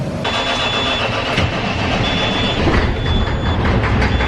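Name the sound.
grain cart tractor engine starting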